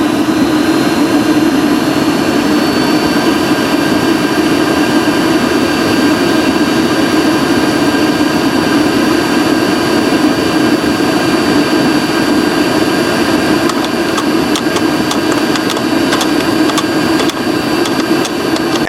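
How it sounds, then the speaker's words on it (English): A failing Rixen hydronic heater in a four-season camper van fires up in minus 24-degree cold, giving a loud, steady roaring hum with a constant low drone, later joined by faint rapid ticking. "started to fire up our furnace and heard that noise all over again"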